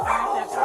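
A dog barks once indoors at a home's doorway, giving a short, loud, fairly close bark.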